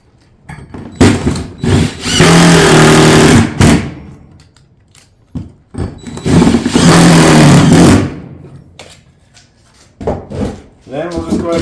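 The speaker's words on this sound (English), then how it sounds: "take our lag bolts and go ahead and fasten those into those holes." A power driver drives lag bolts into a solar panel mount on a tile roof in two loud sustained bursts, each a couple of seconds long, with shorter clicks and handling noises between them.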